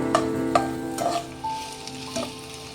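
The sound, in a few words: vegetable manchurian balls frying in oil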